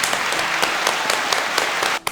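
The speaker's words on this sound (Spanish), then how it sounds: "Aplausos. Súper aplausos." Steady applause from an audience at a talk on mental control, dense clapping filling the whole stretch and cutting off abruptly near the end.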